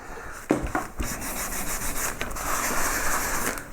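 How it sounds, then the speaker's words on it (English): A clean cotton rag burnishes a waxed pierced relief carving of a yellow flag iris in wood, giving a close, soft, continuous rubbing hiss with a few sharper strokes and no talk. "So I give the carving a final burnish with a clean cotton rag."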